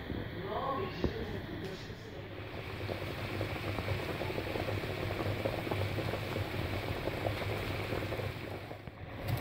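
Oxtail simmering in six glasses of salted water on a stove, a low steady bubbling hiss that fills the scene, close, with a brief faint voice near the start.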